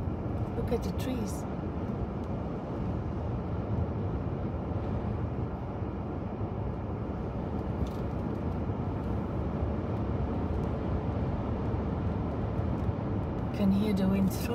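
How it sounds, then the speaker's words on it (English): Steady wind roar buffets a car climbing the Nufenen Pass in Switzerland, a dense low rumble heard from inside the cabin that runs unbroken throughout, with faint voices talking over it. "Can hear the wind through the car."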